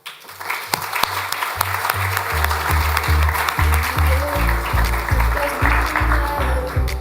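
Conference hall applause welcoming a speaker to the stage, a broad wash of clapping building and holding steady, with rhythmic low thumps beneath it, moderately loud.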